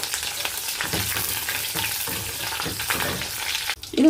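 Sliced shallots, curry leaves and mustard seeds fry in hot oil, giving a loud, continuous crackling sizzle with rhythmic stirring scrapes, ending in a sudden close clatter.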